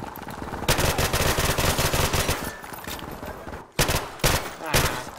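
Sustained video game gunfire erupts during a prop hunt match, loud rapid automatic bursts rattling almost continuously with short breaks, dense and close.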